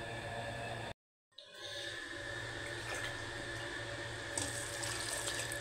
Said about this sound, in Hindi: पानी ऐड करते हैं इसमें,